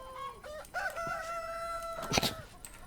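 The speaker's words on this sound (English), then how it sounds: "there's roosters all over the place because all those chicks became roosters" Roosters crow one after another in Minecraft with the Animania mod, long drawn-out calls with a sharp burst near the end, close and loud with no talking.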